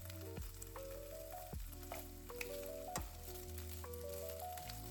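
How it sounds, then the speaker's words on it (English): Chicken searing in a hot pan gives a steady, close sizzle and crackle that holds at an even level for a few seconds, with no talking. "sizzle, that's how you know you are locking in the juices"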